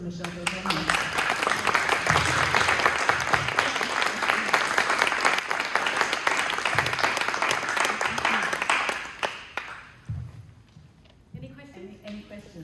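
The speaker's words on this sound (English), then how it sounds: "a round of applause for Michelle Belgiorno" An audience gives a long burst of sustained clapping that fills a room after an artist talk. It fades out near the end, and a speaker's voice is heard at the start and close.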